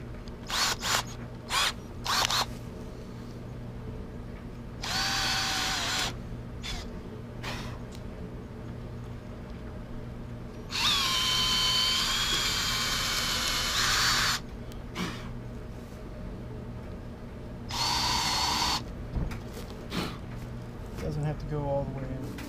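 Power drill boring angled holes into a homemade wooden cabinet, in several short bursts of a few seconds each, the longest near the middle, with quieter handling and talk between.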